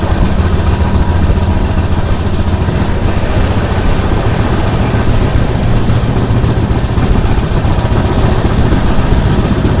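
Onboard the Kacheguda–Mysuru SF Express with LHB coaches running fast near Shadnagar, a loud, dense, unbroken rumble of the moving train that holds steady from start to finish.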